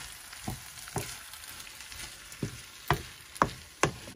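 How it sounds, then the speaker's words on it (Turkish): Rice being stir-fried in a pan with black pepper and ground chili, a soft steady sizzle broken by periodic scraping stirs of a utensil against the pan, close and moderately quiet, with no talking. "Şimdi pirinçlerimi kavuruyorum böyle."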